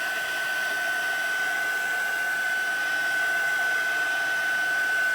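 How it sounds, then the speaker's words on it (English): A handheld heat tool blows hot air steadily for several seconds at close range, a loud continuous whine with a sharp tonal hum and no pauses or voices. "I'm going to bring that heat tool back in again"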